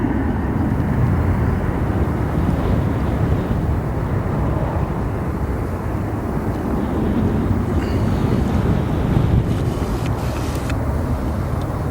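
Airliner in flight at night near O'Hare International Airport, a broad, steady jet roar that stays constant and fairly loud, heard from a distance amid wind and traffic-like rumble, with no talk.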